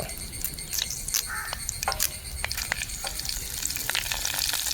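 Dried red chillies and curry leaves sizzle in hot oil for Kerala-style cucumber pachadi, a loud, close, crackling fry with sharp spatters and pops repeating throughout, no voices.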